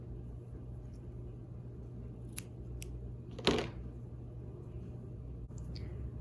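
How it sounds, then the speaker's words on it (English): Scissors snip through yarn in a quiet room, one sharp close cut standing out after a couple of fainter clicks, over a low steady background hum. "and cut the yarn"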